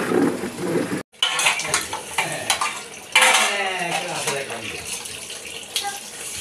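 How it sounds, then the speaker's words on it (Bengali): Dishes and cutlery clatter and scrape under a running tap while washing up after breakfast, close and busy, with a brief pause near the start and a voice speaking over part of it. "সকালে খাওয়া দাওয়া শেষ করে বাসনগুলো আমি ধুয়ে নিচ্ছি।"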